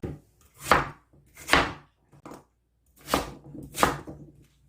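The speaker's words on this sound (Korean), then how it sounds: "이걸 뚝뚝 잘라서 얘도 육수에 넣을 겁니다." A radish is chopped into chunks on a cutting board for broth, giving four loud, sharp knife strikes plus a few softer taps, each clean and separate with silence between them.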